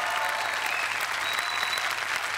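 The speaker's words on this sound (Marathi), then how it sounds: "जोरदार टाळ्या" A studio audience at a Marathi comedy show gives loud, sustained applause, a dense wash of clapping that holds evenly from start to finish.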